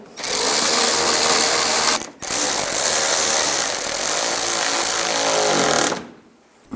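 A power tool drives screws tight on a new front upper control arm of a 2005-15 Nissan Xterra, giving two long, loud, continuous rattling bursts with a brief break between them.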